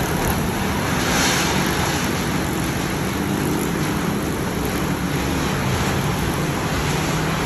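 Heavy rain pours and strong wind blows during a storm in Karachi, a dense, unbroken roaring wash with wind rumble buffeting the microphone, loud and near throughout, with no talking.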